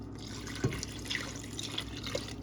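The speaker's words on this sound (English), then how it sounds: "I'm adding 4 cups of water" Four cups of water poured over freshly washed dandelion petals for dandelion honey, a soft steady trickle with a few splashy drips, close and fairly quiet.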